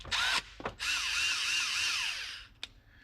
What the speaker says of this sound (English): So I wanted to get the polishing gun